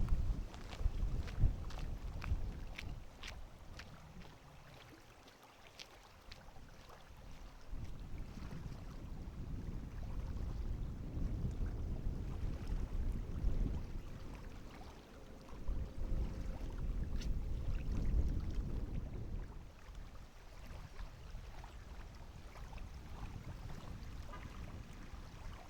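Strong gusting wind buffets the microphone at a lakeside boat ramp, roaring low and loud in waves that swell and ease, with faint water and boat sounds underneath.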